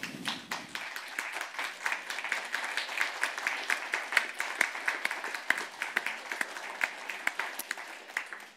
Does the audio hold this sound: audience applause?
yes